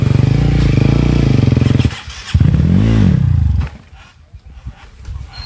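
A dirt bike engine on a hard enduro mountain trail roars and revs loudly up close, dropping briefly, surging again, then fading to a low idle.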